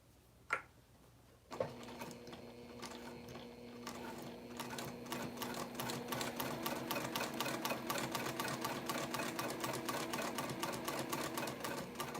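A sewing machine stitches a leather crossbody bag after a couple of clunks, building into a fast, steady mechanical rattling that stays loud and close to the end.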